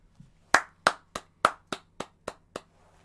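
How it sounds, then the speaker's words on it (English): A single person claps about eight times in a quick, slightly uneven rhythm, each sharp smack close and clear against a quiet room with a faint low hum underneath. "Yo, round of applause, Lindsay."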